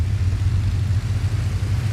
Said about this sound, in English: Going to rev these engines.